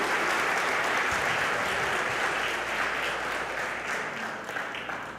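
A church congregation applauds during a Portuguese-language sermon, with dense, even clapping from many hands that gradually thins and fades toward the end.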